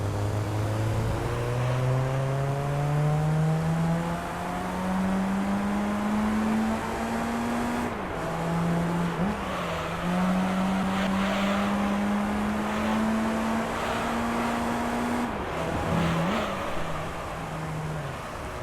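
Toyota Altezza race car in Gran Turismo 3, held in second gear near the end of a lap, engine note climbing steadily with brief dips at gear or throttle changes, loud and continuous throughout.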